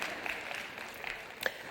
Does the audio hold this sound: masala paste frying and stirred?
no